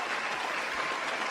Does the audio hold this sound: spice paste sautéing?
no